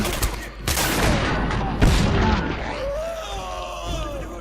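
Enemy gunfire in the shooter Singularity: sustained, dense automatic fire and booming impacts roll on continuously, with a voice talking over the shooting.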